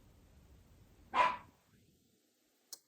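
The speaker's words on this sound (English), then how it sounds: "The dog's barking outside." A dog barks once outside, a single muffled bark at a moderate distance, followed by a brief faint click, in an otherwise quiet indoor room.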